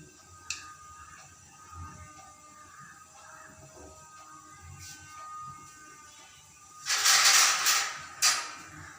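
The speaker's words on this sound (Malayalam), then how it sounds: "കടുക് എല്ലാം നന്നായി പൊട്ടട്ടെ" Half a teaspoon of mustard seeds crackles in hot oil for onion chutney, with faint sparse pops at first and then a dense burst of loud spattering near the end.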